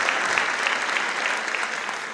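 Audience applause at a training meeting in Campinas, Brazil: steady, dense clapping from a crowd, fairly close and even throughout with no voices over it.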